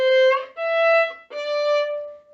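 Three sustained bowed violin notes played in succession, each clear and resonant, with brief breaks between them as the fingers shift.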